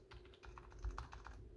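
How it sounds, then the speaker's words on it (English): Steady typing on a Razer Huntsman V2 TKL keyboard, a quick run of soft, even keystrokes heard up close with a low background hum; no voices. "this keyboard sounds great"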